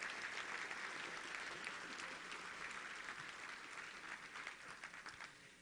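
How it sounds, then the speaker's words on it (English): A luncheon crowd at the Little Rock Touchdown Club claps for its volunteer team: a sustained round of applause, fairly distant and soft, thinning slightly toward the end. "Let's give all those ladies and guys a big round of applause."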